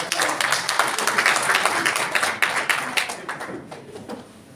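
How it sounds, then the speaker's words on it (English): A morning business presentation audience gives itself a round of applause. The clapping is moderately loud and scattered, with distinct hand claps that thin out and fade over about four seconds. "Can you all give yourself a round of applause?"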